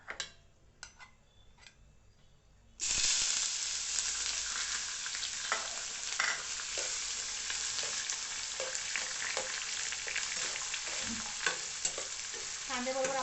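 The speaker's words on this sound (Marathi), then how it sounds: "आपण आता याच्यामध्ये कांदा घालून घेऊया।" Chopped onion drops into hot oil with garam masala for chole curry, a loud sizzle bursting in after a few quiet ticks and carrying on steadily with scattered spoon scrapes and stirring clicks.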